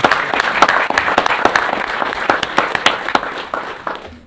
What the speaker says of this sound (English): This is the part where everybody claps.